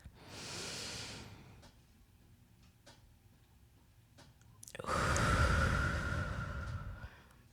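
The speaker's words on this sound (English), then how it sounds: "Take a deep breath." A person takes a deep breath, a soft airy inhale followed by a louder, longer exhale, close to the microphone in a quiet room with faint ticks between.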